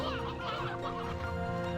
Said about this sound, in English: sea hens or whatever they're called